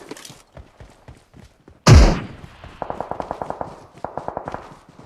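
Gunfire in the mobile battle royale game PUBG Mobile: one loud, close boom, followed by faint scattered pops and then two rapid automatic bursts of about eight and six shots each.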